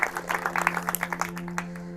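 A congregation claps in a Pentecostal youth church gathering, rapid uneven claps at moderate distance over a steady low hum from the sound system, tapering off toward the end.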